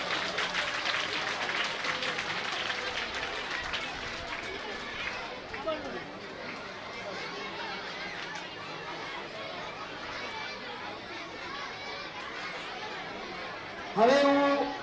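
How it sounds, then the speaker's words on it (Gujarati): A crowd at a school felicitation ceremony applauds while a guest is honoured with a shawl. Clapping is louder at the start and then fades under chatter and continuing speech, with a brief louder burst near the end. "આપણે તાળીઓથી વધાવતા રહીએ."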